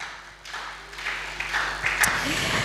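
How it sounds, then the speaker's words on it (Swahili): Congregation at a Swahili church service clapping together, a steady broadband patter that builds over a couple of seconds and keeps going under a faint background voice. "Pigie Yesu makofi"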